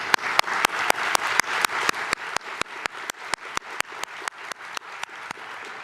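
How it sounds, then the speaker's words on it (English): An audience at a university awards ceremony applauds faculty honorees, with a few sharp, evenly spaced loud claps standing out close by over a steady bed of broader clapping. "Let's give them a round of applause."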